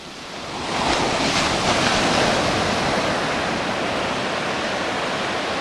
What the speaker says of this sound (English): Nighttime on the beach.